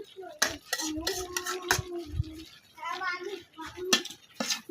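Metal spoon clatters and scrapes against a cooking pot while okra is stirred in a Bangladeshi village kitchen, a string of sharp clinks and knocks at close range with a voice speaking in between.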